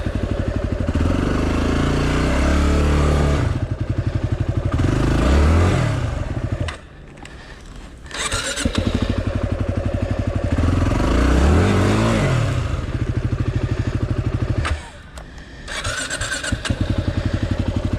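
A motorcycle stuck on a mud ride revs hard in two long loud bursts, its engine dropping to a lower idle between them and briefly again near the end.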